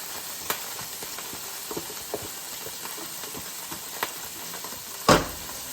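Onion and garlic fry in a pan with an oily, steady sizzle, broken by scattered sharp pops of spitting fat and one louder crackle near the end.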